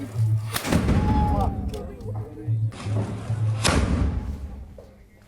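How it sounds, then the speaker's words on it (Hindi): An old Akbar-era cannon fires at a ceremonial weapon worship, two heavy booming blasts about three seconds apart, loud and close, with a voice talking between and under them. "यहाँ अकबर के काल की तोप भी रखी हुई है जिसका पूजन करके इसे चलाया गया।"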